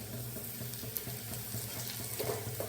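Chopped ginger and garlic hiss and sizzle softly in a hot pan for a pasta dish, a quiet, steady frying sound with a faint underlying hum and occasional small pops.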